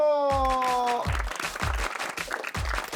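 A group claps and applauds steadily for a few seconds at the start of a summer mini sports day, right after a voice calls out over a fading musical tone.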